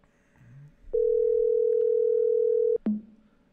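Telephone line tone after a blocked call is cut off, a single loud, steady electronic tone lasting about two seconds, ending in a click, with faint background noise before it.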